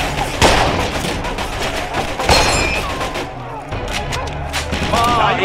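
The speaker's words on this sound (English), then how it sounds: "Somebody toss a grenade." Gunfire and a grenade blast in a Mafia 2 firefight, sharp bursts and heavy thuds cracking out over a dense noisy battle bed, with shouted voices mixed in.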